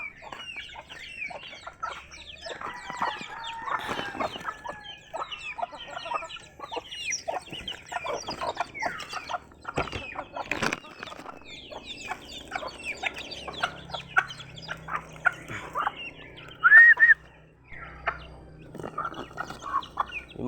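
Native chickens kept outdoors cluck and scratch around faintly and steadily, scattered short calls over a quiet yard, with one brief sharper call near the end.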